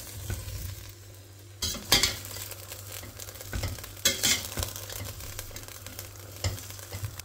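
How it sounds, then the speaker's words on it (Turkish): Green peppers stirred and frying in oil in a pan for pickled peppers, a steady close sizzle with repeated scraping stirs and utensil clinks against the pan, no talking. "Biberlerin rengi dönene kadar karıştırarak pişiriyoruz."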